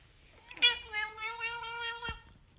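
A cat lets out a single long, drawn-out meow with a bright harmonic tone, loud and close, lasting over a second before a brief thump ends it.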